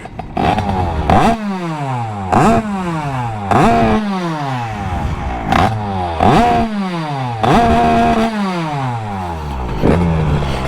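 A tuned Derbi 100 moped engine with a 34 mm carburettor runs alone and close, revving up in repeated sharp bursts that fall away between throttle blips, with a rasping two-stroke tone and clattery mechanical noise.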